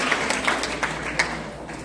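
A church congregation claps together during a sermon, steady applause with a few sharper accents, moderately loud and close, with no talking.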